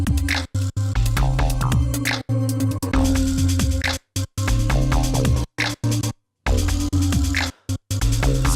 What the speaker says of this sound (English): the gate is going to mute any sound that's below a certain volume